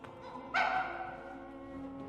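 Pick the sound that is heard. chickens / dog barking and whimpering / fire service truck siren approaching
dog barking and whimpering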